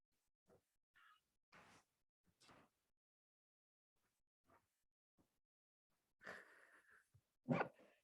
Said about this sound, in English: I think I'm going to have to let someone's dog out because it's barking and it might be disturbing.